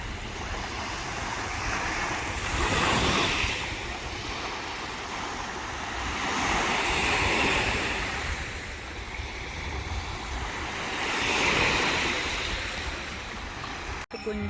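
Sea surf washing onto a shore with wind buffeting the microphone, swelling in roughly three broad surges that rise and fall, steady and fairly close, with no voices.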